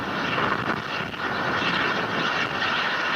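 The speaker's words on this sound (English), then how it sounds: "The h-iia is now flying above the Pacific Ocean to the east." An H-IIA rocket in flight about a minute after launch gives a continuous, broad, rumbling roar, steady and fairly loud with no voices over it.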